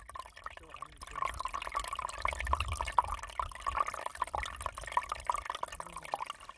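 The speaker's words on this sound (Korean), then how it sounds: "얼음장 밑에서 물 흐르는 소리 들리죠?" Water flowing under ice, trickling and dripping steadily in a quiet outdoor setting along the Jeonju Stream headwaters, a soft continuous flow with small splashes.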